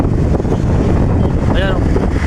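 Typhoon floodwater rushes high against a bridge, nearly overflowing, with strong wind buffeting the microphone in a loud, continuous roar; a brief tonal whine rises partway through.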